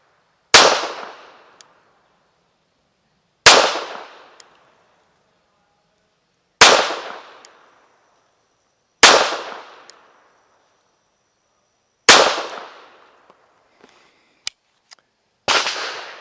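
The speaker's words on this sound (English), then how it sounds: "Here we go, 5 shots to the body from 15 yards." Five sharp pistol shots from an MEU(SOC) pistol fired at a body target 15 yards downrange on an outdoor range, evenly spaced about three seconds apart, each loud crack followed by a short decaying echo, with no talking.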